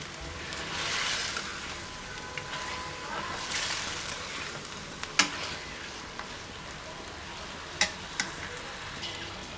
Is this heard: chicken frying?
yes